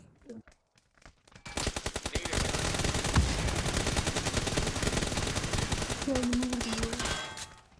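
Gunfire in the video game PUBG, a few scattered shots followed by a long, rapid, evenly spaced automatic burst that runs loud and close for several seconds, with a brief voice near the end.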